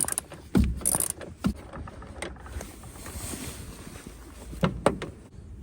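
A 12 mm bolt is loosened by hand on a high-mileage Honda CR-V, with irregular metallic ratcheting clicks and clanks close by and short tool knocks scattered throughout.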